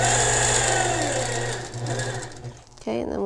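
A sewing machine quilting a fabric section hums steadily at close range, its motor pitch dipping and shifting briefly near the end.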